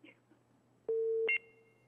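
A steady telephone line tone after a caller drops from a live call-in show: a single loud held tone that jumps briefly to a higher pitch and then fades, following quiet room noise.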